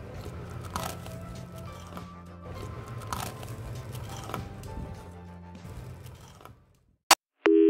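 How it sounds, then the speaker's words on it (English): Crunchy Nigerian rough rock buns bitten and chewed close up, a steady stream of dry crunching with a few sharper cracks, then a brief quiet gap before a sudden loud burst at the end. "Just hear that crunch."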